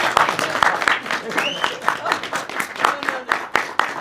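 Audience at a film Q&A in a cinema claps for a guest, sparse uneven clapping with sharp individual hand claps and voices mixed in, fairly short and not very full.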